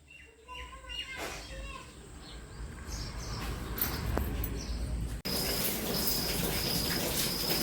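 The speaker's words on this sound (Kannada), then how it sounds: "ಮಳೆ ಹೊಡಿತು" Steady rain falls around a house during a downpour, a broad hiss filling the clip, with birds chirping faintly early on and a brief voice in the middle before the rain turns louder and closer.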